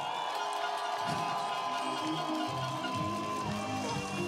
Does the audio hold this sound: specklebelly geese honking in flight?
no